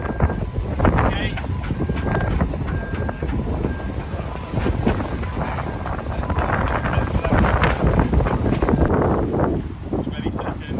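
Rushing wind and water noise aboard a Hanse 505 sailboat sailing upwind on an Atlantic crossing, loud and constant with gusty buffeting against the microphone and a voice heard faintly.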